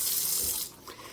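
Water runs steadily from a sink tap to wet a scrub brush before cleaning with a natural paste, a continuous close hiss that eases off slightly near the end.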